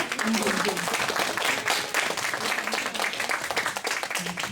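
An audience at a novel-reading event claps steadily to welcome two student readers, a sustained round of applause with voices mixed in beneath it.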